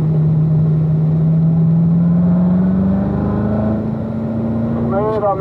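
A Corvette Z06 on the Spring Mountain race track accelerates out of a corner, its engine note rising steadily in a loud, close drone, with a brief shift-like change near the end.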